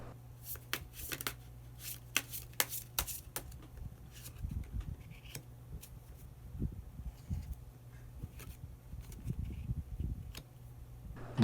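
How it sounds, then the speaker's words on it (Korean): Tarot cards being shuffled and drawn: a quick run of crisp riffling snaps at the start, then softer sliding and flicking of cards as a hidden card is picked, close and fairly quiet with no talk. "그럼 마지막으로 히든 카드 한 장 더 뽑아보도록 하겠습니다"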